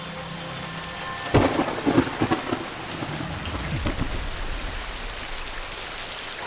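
Heavy rain pours steadily while a sharp crack of thunder breaks out, followed by rolling rumbles that fade into the continuous downpour.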